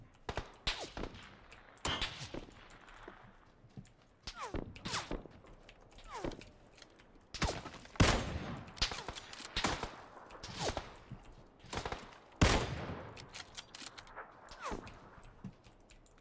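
Gunfire in the PUBG battle royale video game rings out in sharp, irregularly spaced single shots and short bursts, with quieter mechanical clicks and creaks between them.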